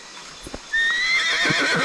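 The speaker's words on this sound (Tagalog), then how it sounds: "Kabayo nga, no?" A horse gives a single clear neigh, a rising then wavering whinny, after a few soft thuds, fairly close.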